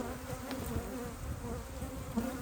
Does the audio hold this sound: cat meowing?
no